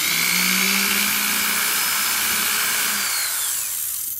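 A power drill bores steadily into cast resin pieces for ornaments, a continuous whirring whine held at an even, unhurried pace, close and loud, easing off near the end.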